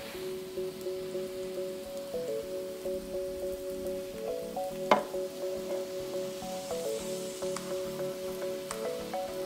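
Indonesian fried rice (nasi goreng) seasoned with sweet soy sauce and soy sauce fries with a soft, steady sizzle and occasional stirring scrapes, with light music playing underneath.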